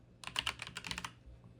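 A quick burst of computer keyboard key presses for Blender shortcuts, around a dozen close, crisp clicks in an uneven rhythm, then quiet.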